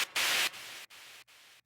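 Modular synth white noise sweep, a hissing burst that swells loud then drops into choppy, gated noise segments with short silent gaps, heard alone.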